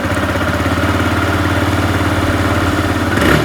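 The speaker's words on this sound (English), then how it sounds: "all you hear is just the sound of the engine" TVS Raider 125 motorcycle engine idling after start-up, a loud, steady low throb with an even mechanical pulse, heard close and alone.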